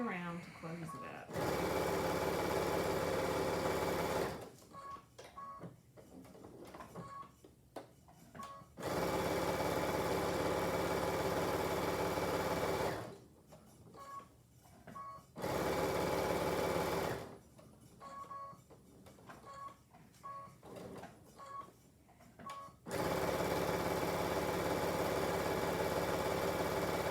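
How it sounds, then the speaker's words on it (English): Sewing machine stitching around the edge of a fabric bird bun, steady mid-pitched whirring in long runs broken by short pauses for pivoting the fabric, with a voice talking quietly during the gaps. "And then you're just going to sew all the way around to close it up."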